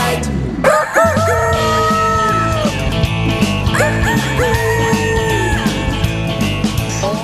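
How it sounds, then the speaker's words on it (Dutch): Rooster crowing in a children's farm song, two long cock-a-doodle-doo calls sung over a loud, busy musical backing. "En de haan die zegt altijd."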